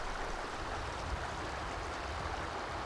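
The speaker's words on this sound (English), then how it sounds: "Especially here along Jumping Pound Creek." Jumping Pound Creek flows steadily in light snowfall, a continuous close wash of water with no talk over it.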